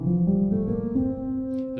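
A Mixolydian scale plays on an Ableton Push 2 as a short run of clean, sustained synth notes stepping through pitches, with rich harmonics and no talking.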